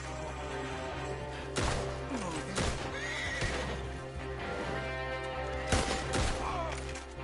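Horses whinny and neigh loudly in the video game Red Dead Redemption, with hoofbeats and sharp gunshot bursts cracking over a steady background rumble.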